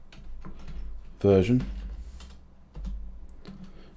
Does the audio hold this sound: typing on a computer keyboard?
yes